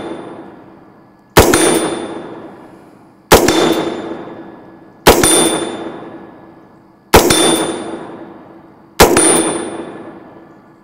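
Five sharp, loud impacts of 5.56 62 grain soft point rounds striking a Frontline ballistic barrier, each a metallic clang ringing out and decaying over about two seconds, evenly spaced with quiet gaps between.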